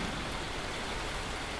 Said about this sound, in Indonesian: Hujan, bro. Hujan.